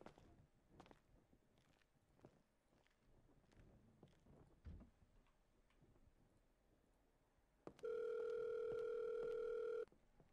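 A phone call's ringing tone in the GTA RP video game sounds as a steady electronic tone lasting about two seconds near the end, after quiet soft clicks and movement.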